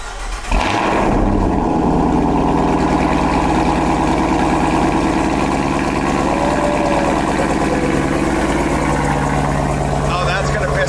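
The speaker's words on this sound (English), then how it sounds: "We finally got the exhaust on, so let's give this a start up and piss my neighbors off." A car with a Corsa Extreme catback exhaust cranks and fires up, settling into a loud, steady, deep idle with a throaty rumble that holds close to the microphone for about ten seconds.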